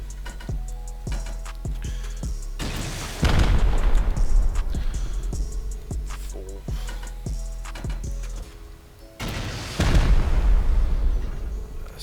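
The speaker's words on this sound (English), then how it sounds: "So as you see, there's the 3rd rocket," Rocket explosions strike a door in the survival game Rust, with two heavy booming blasts several seconds apart over a steady low game ambience and smaller impact pops.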